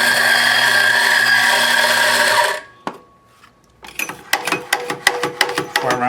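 A Mazzer Super Jolly commercial coffee grinder runs with a loud, steady whine for a few seconds and then cuts out, followed by a series of sharp knocks and taps.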